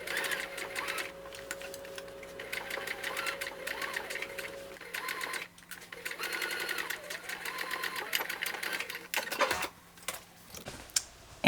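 A home sewing machine topstitches the neckline of a summer top in steady, moderate runs of rapid needle ticking, pausing briefly between bursts, with a faint tonal hum beneath.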